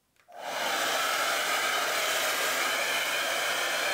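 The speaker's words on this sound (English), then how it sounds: "let me go ahead and dry my hair" A hair dryer switches on after a brief pause and then blows at a constant, loud, close-up rush of air as hair is dried, with no talking.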